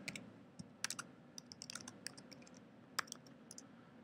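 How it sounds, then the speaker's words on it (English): Keystrokes clatter on a computer keyboard in irregular bursts of clicks, close and fairly quiet over a low steady room hum, with no talking. "I can even type more stuff."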